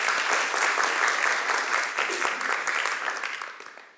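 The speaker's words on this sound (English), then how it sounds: "Let's show a big hand of applause to Martin." A lecture audience claps for the physics speaker, a dense, steady round of applause that carries for several seconds before fading out at the end.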